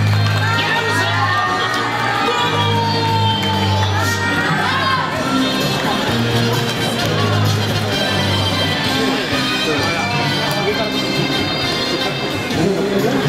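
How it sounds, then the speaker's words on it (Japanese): Applause and cheering for Chunichi Dragons players Shuhei Takahashi and Shinnosuke Ogasawara at a New Year talk show, a loud, continuous crowd roar with shouts and children's voices over a low musical hum. "大きな拍手をお送りください。"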